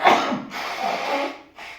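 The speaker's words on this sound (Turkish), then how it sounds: "Kuvvetli şekilde sümkür." Forceful nose blowing during a sinusitis treatment with bitter melon: three breathy, rushing blasts, a short strong one, a longer sustained push, then a brief final puff, close and fairly loud with no talking.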